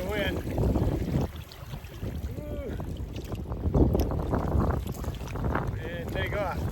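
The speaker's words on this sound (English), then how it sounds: "Just got a bit of wind." Wind buffets a boat on the Missouri River during a 25-mile test run, a steady broadband rush that persists throughout, with people talking over it.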